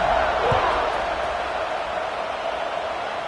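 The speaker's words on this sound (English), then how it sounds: "this crowd is buzzing after that last score." A college football video game stadium crowd keeps up a continuous, even roar after a score, a broad wash of massed voices with one brief thump near the start.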